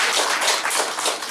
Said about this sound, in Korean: 곽 후보님 위해서 박수 한번 쳐주시겠습니까?